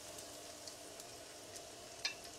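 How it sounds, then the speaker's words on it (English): Quiet, steady sizzle of Gouda cheese coated in almond breadcrumbs frying in oil, with a few soft clicks and one sharper tap, no talking. "And we'll start frying."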